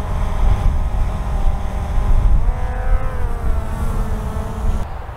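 A DJI Mavic 2 Zoom drone flies up and away outdoors, its rotors producing a steady whine with pitch shifting midway, over a continuous rumble of wind and engine-like noise.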